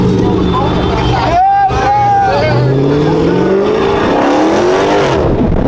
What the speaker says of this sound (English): Hope you guys liked the burnout